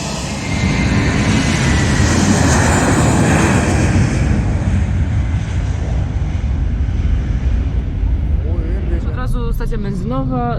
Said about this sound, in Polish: tutaj sobie startują samoloty